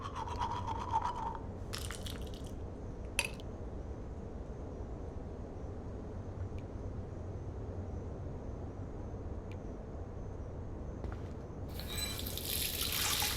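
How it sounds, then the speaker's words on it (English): Water runs steadily from a tap into a sink as a face is washed in the video game Life is Strange, a constant soft hiss with brief splashes and clatters at the start and end. "Feels so good to wash my face after all that chlorine."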